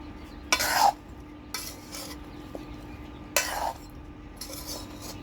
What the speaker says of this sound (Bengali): এবার আমি ভালো করে নেড়ে দেবো।